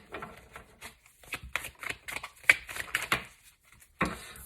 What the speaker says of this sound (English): I'm going to keep shuffling so we can get roughly 3 or 4 more cards